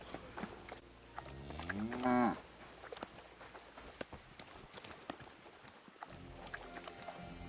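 A single cow in the video game Kingdom Come: Deliverance 2 moos briefly amid soft shuffling and clattering, with faint background noise around it.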